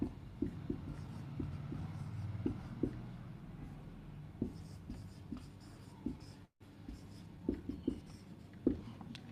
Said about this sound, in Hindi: मैं वापस से यहां पे वैल्यूज लिख दे रहा हूं।